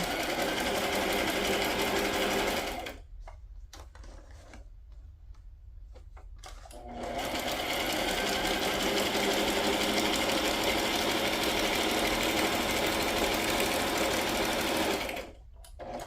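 A sewing machine runs in a fast, steady whir, stops for a few seconds, then resumes stitching continuously before pausing again near the end.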